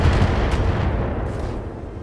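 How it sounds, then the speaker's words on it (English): Incoming weapons fire from a Trebuchet mech in the BattleTech game lands as one loud, close boom that rolls into a rumble and slowly fades, with no voices. "we got incoming fire from the trebuchet out there"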